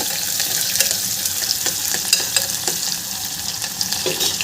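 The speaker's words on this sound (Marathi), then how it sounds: "मी कांदा छान ब्राऊन करून घेत आहे" Onions frying in a pan for a bitter gourd curry crackle and sizzle steadily, with scattered sharp pops and the occasional scrape of stirring, close and fairly loud.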